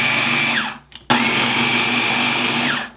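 A food processor pulses blueberry pie dough in two loud whirring bursts, each spinning up and winding down, with a brief pause between them.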